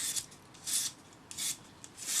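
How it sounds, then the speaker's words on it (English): A sanding stick rubs along the outside curve of a wire love knot ring in four short, quiet, rasping strokes separated by brief pauses, close up with no talk. "Now take your sanding stick and on the outside"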